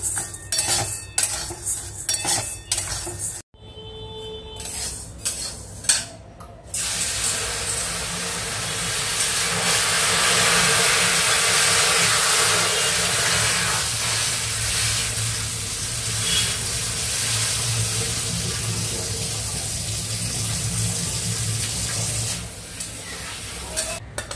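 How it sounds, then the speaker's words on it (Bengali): Biuli (urad) dal fries in a pan in a home kitchen: a few clinks and handling knocks at first, then a steady loud hiss and sizzle that carries on evenly, with no voices. "বিউলির ডালটা আগে ভেজে নিই"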